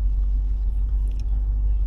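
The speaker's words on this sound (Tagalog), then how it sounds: "May singaw yung muffler." A car with a leaking muffler idles or cruises on a Pasig road, a constant deep low-end drone with a faint hollow exhaust huff underneath, steady and close with no talking.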